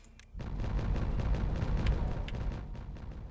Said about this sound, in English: We're going to detonate this.